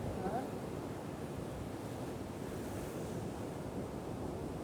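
Sea waves rolling and crashing at the shore during a spinning fishing trip, a steady broad roar with wind buffeting the microphone.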